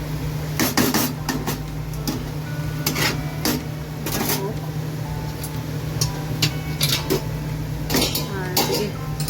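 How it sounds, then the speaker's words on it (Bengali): A ridge gourd and potato curry with onion and tomato cooking in a pan, heard as clattering metal utensils and scraping over a steady low hum, with frequent sharp clinks throughout. "এখানে ঝিঙে আলু দিয়ে একটা তরকারি করছি, পেঁয়াজ দিয়ে, পেঁয়াজ টমেটো দিয়ে।"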